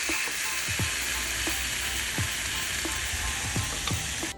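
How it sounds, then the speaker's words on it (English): Steak and mushrooms cooking together on a grill over medium-high heat give a steady, close sizzle and crackle, with occasional sharp clicks and ticks standing out above the frying noise. "I like to cook the steak and the mushrooms together for approximately 7 minutes per side on the grill on medium to high heat"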